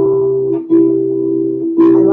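A piano plays the opening of Joy to the World with both hands together in an easy arrangement, sustained notes ringing clearly with a couple of fresh strikes, no talking.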